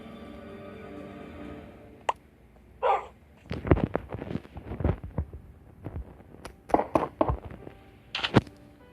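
A dog outdoors gives several sharp barks and yips in scattered bursts, fairly close and loud, with quiet background between them.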